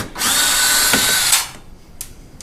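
A power drill whines loudly for about a second while backing out T25 screws from the plastic belly pan of a 2016-2018 VW Jetta 1.4L, then stops, followed by a couple of faint clicks.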